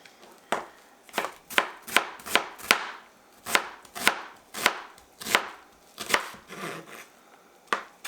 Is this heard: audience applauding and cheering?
no